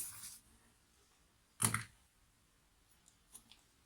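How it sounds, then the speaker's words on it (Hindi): Scissors cut through cloth for a trouser hem in a tailoring setting: one sharp, crisp snip stands out, with a few fainter clicks of the blades after it, in an otherwise quiet room. "सेम मैंने इसकी कटिंग कर ली, इसी तरह मैंने इसकी कटिंग कर ली और अंदर से भी मैंने इसको काट लिया"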